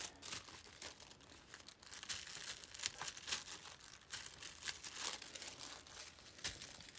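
Gold foil crinkles and rustles faintly as it is pressed by hand onto glue on a decorated journal, a close, quiet stream of irregular crackles and soft crumpling taps.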